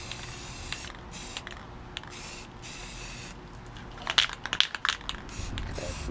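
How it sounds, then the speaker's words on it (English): An aerosol can sprays paint onto a DDR arcade cabinet being restored, with several short hissing bursts and longer sprays, close and fairly faint, followed by a quick run of rattling, clicking bursts near the end. "Spray this down while I got a chance."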